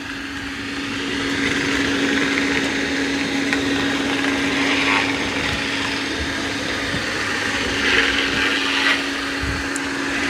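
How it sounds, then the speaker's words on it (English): A Roomba Plus Combo 405 robot vacuum whirs steadily with a low motor hum, while its suction brush roller makes irregular knocking and scraping sounds against uneven floor planks. No voices. "that sound you're hearing is the brush roller, the suction brush roller hitting the uneven floor planks."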